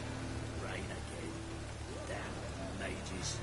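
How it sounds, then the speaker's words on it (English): Steady hiss of rain falling over a low hum in the video game The Witcher 3, with a few faint tonal sounds drifting in and out; no clear voices. "And it's raining again."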